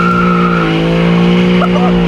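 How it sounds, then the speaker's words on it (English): A car launches off the line under launch control, its engine roaring loud and close while the tires spin and squeal in a steady, sustained screech. "I think we just roasted the tires instead"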